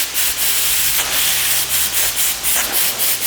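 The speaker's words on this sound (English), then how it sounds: "always use an air gun which can be used to dry all the instruments" An air gun blasts residual moisture out of the shaft and tip of an endoscopic grasper. Loud, close, rushing hiss pulses in quick repeated bursts with no talking.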